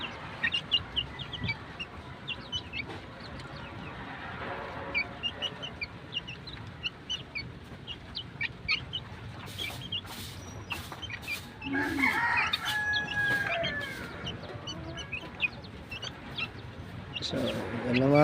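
Gamecock roosters cluck and crow repeatedly while feeding, with a mix of near and farther calls over steady outdoor ambience; one rooster lets out a louder crow partway through.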